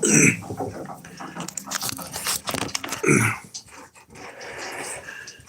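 A puppy growls and pants up close in rough, uneven bursts, with scuffling and chewing-like noises mixed in.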